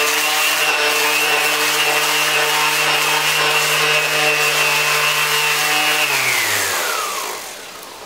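A power sander runs on fibreglass with a steady high whine for about six seconds, then spins down as it is switched off, winding away into quiet.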